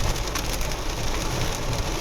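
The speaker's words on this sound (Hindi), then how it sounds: "बारिश शुरू हो गई है, तेज़ बारिश शुरू हो गई है" Heavy rain pours steadily outdoors, a dense, loud, even hiss of drops striking surfaces with no pauses.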